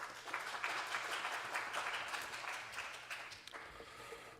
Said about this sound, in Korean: 박수로 맞이합니다